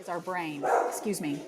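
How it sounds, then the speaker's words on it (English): A dog barks a few times in quick, sharp bursts nearby, partly overlapping a person speaking during a podcast-style interview. "sorry about the dog barking"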